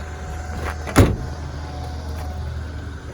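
The power sunroof of a 2013 Mazda 3i Grand Touring closes with a soft electric motor hum inside the car and a single thump as it seats, over steady background noise.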